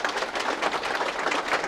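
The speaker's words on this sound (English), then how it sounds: "If you'd like to give them a round of applause," Audience at a ship recycling forum in Singapore applauds the panelists, a moderate, fairly close patter of many hands clapping in uneven bursts with no talking.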